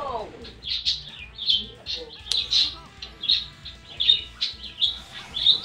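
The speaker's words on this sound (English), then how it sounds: "if you can hear my bird in the background." A pet bird chirps and tweets repeatedly in bright, short bursts close by, with someone talking quietly underneath.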